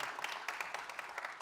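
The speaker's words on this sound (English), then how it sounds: "So a huge round of applause for everyone." An audience at a business event applauds, a dense patter of many hands clapping at moderate volume, slightly distant and steady throughout.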